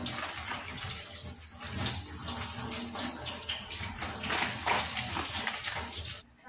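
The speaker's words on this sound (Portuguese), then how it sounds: "Vou lavar bem. Tem que ser bem lavado para tirar todo o cal que foi colocado." Water runs steadily from a tap, splashing continuously as a green papaya is rinsed beneath it, with faint handling noises throughout.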